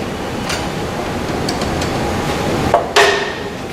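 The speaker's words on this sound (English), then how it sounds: "I need to get my dead blow hammer so that I can apply that pressure to disengage that thread." A dead blow hammer strikes a milling machine drawbar to knock loose a threaded drill chuck. Two sharp, close blows land near the end over steady shop noise.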